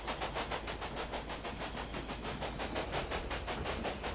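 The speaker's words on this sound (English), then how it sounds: "Look at it just take off, man. It's just going. Train is just hauling, man." A train hauling along the line in Railway Empire, with a fast regular clickety-clack of wheels over rail joints and a steady hissing rumble, continuous and fairly close.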